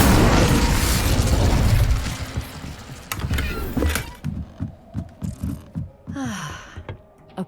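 Incendio fire spell in Hogwarts Legacy: a loud roaring, whooshing blast fills the first few seconds, then fades into a rhythmic series of soft thumps and a brief shimmering magical tone.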